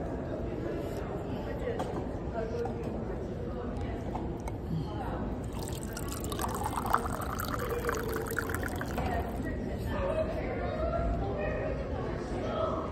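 Drinking water pours into a glass at a convention center, a soft trickling fill heard under nearby conversation.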